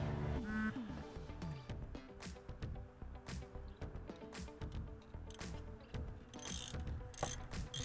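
A hand ratchet tightens a 10 mm bolt on a Toyota Camry alternator, a close series of rapid pawl clicks in repeated short bursts with a few sharper metallic knocks between strokes.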